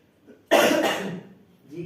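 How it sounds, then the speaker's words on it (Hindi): An elderly man gives one hard, rough cough close to the mic, tailing off into a raspy throat-clearing rumble, then a little voiced noise at the end. "अब बुढ़ापा है, थोड़ी खांसी रहती है"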